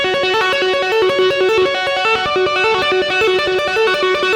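Electric guitar plays the A section of a solo, a fast, loud, distorted run of rapid notes in a continuous repeating pattern, close and alone.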